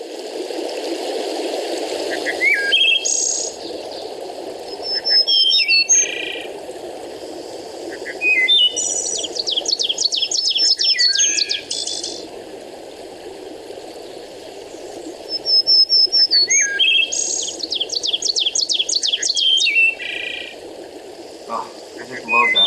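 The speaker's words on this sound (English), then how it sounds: "some of the birds that you might hear in the forest canopy in the summertime" Birds sing in a summer forest canopy beside a flowing stream: repeated bright trilling and chirping phrases come in bursts over a steady rushing water backdrop, with songs recurring several times.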